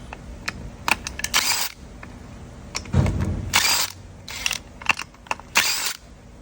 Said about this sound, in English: Grab you a 13 mil, zap them boys off.